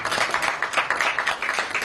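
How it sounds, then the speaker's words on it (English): An audience claps for actress Deepika Padukone at the India Pavilion inauguration in Cannes, a brief burst of steady crowd clapping, fairly loud and close. "A big round of applause for Deepika."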